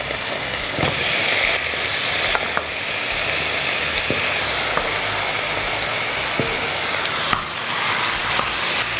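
Chicken fries in woku spice paste with a loud, constant crackling sizzle, punctuated by sharp scraping and clicking strokes as it is stirred, no voices.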